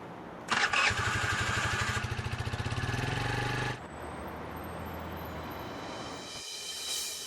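A motorcycle engine starts with a loud, rapid chugging roar that runs for about three seconds and then cuts off abruptly, leaving a quieter background with a faint hiss and a soft rising whoosh near the end.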